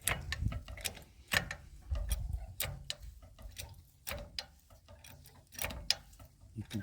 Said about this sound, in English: I'm going to jack up the unit